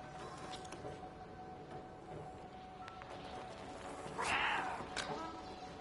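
A cat meows once in the video game Stray, a short bright call standing out clearly over a steady background of game ambience and music.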